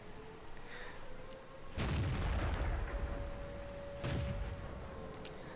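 Two heavy artillery blasts from a SAU 40 self-propelled gun firing HE shells in World of Tanks, the first booming and rumbling on for seconds, the second about two seconds later over a steady low engine drone.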